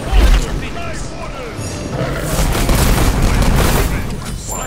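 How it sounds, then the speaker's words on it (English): A middle tower crumbles in SMITE with a sharp, deep boom followed by a sustained roar of rumbling debris and crackling bursts, while a voice speaks over the din. "Your team has destroyed a middle tower."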